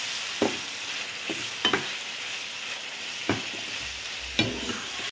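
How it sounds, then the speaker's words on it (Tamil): Mutton fries in plenty of oil for a Tamil mutton varuval, a steady close sizzle broken by several sharp stirring scrapes and clacks of a spoon against the pan, with no talking. "இப்போ அப்படியே பொறிஞ்சு அப்படியே வறுவல் மாதிரி நம்ம அல்ராப்பில் வந்துடும்."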